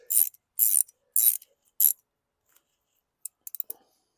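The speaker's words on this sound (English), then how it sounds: "I'm chasing the threads, cleaning out the threads, chasing the threads." Thread chasing on the carburetor of a 2009 Toro Recycler lawn mower gives four short rasping metallic bursts in steady rhythm, close by, then a pause and a few faint scattered clicks.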